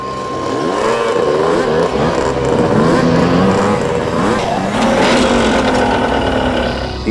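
Motorcycles pull up and rev in a scene from a TV crime drama, the engines loud and close, droning steadily with pitch rising and falling throughout.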